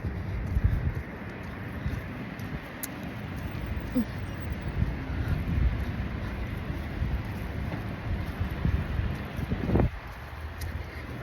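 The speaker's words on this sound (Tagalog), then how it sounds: "Yung hampas ng hangin sobra." Strong wind buffeting a microphone outdoors during a walk in hot weather, a rough continuous rumble with gusty surges and brief rustling bursts, loud and close throughout.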